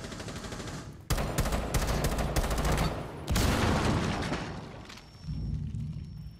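Sustained automatic gunfire laying down cover fire in Rainbow Six Siege, loud and dense rapid bursts with brief pauses and heavy booming thuds, close and continuous over several seconds.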